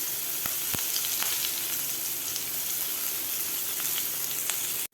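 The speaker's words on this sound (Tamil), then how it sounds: "வெங்காயம் நல்லா வணக்கிக்கலாம்." Onions, mustard seeds, chana dal and curry leaves sauté in hot oil, a steady crackling sizzle broken by occasional sharp pops and light stirring, continuous until it cuts off abruptly at the end.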